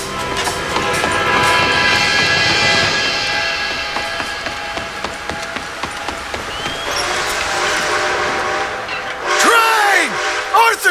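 In Red Dead Redemption 2, an approaching steam train gives a loud, sustained rumble with a long whistle blast, while characters shout over it near the end.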